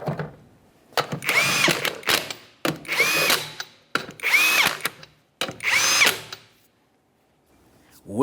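Impact gun or power drill running 19mm lug nuts onto a 1994-1997 Honda Accord rear wheel, four loud close whirring bursts of about a second each with short pauses between.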